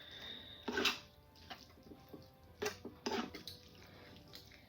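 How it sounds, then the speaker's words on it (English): Onions and apple cider vinegar stirred in a pan for five onion dip, giving wet, sizzling scrapes and a few sharp bursts of utensil against metal over a steady low simmer, close and fairly quiet with no talking. "Give this a stir"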